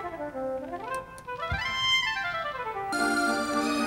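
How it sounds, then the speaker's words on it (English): A synthesized oboe from the PlayStation game Lunar 2: Eternal Blue Complete plays a short melodic phrase of sustained reedy notes, clear and alone, with a brighter tone entering near the end. "This is the sound of the oboe."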